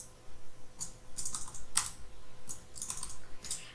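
Data typed into an Excel spreadsheet on a computer keyboard: quiet bursts of rapid key clicks with short pauses between them, close and alone in a calm room.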